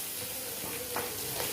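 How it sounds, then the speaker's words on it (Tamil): Tomato puree cooking down in masala in a pan, an even close sizzle and hiss running continuously with faint stirring noises and no talk. "இந்த தக்காளி கரையிற வரைக்கும் இந்த மசாலாஸில் நல்லா குக் ஆகட்டும்"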